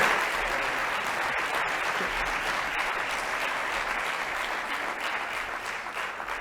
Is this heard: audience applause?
yes